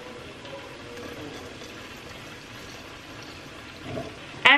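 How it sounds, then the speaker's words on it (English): Water is poured steadily into thick homemade salsa in a kitchen, a soft continuous trickle with a louder splash at the very end. "I'm gonna add a little bit more water"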